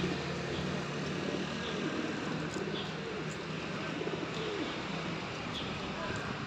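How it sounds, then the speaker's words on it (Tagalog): Street pigeons cooing in Taiwan, soft low coos repeating over steady outdoor background noise, with a few brief higher bird chirps mixed in. "mga kalapati dito sa Taiwan"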